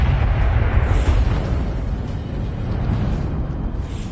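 A Confringo explosion spell cast in the game Hogwarts Legacy bursts as a dense, loud rumbling blast, a sustained low roar of fire and debris that stays close and heavy without fading.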